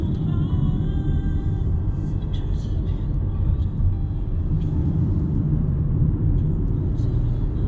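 A Volvo XC40 drives along island roads, its low engine and road rumble steady and close from inside the cabin while people talk over it.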